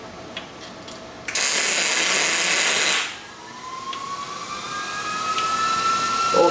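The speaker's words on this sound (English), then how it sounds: "So we're going to just start right here with a tack." A single tack weld on a table joint, struck with the shielding gas left off, gives a loud steady crackling hiss for about two seconds. A fainter, rising mechanical whine follows.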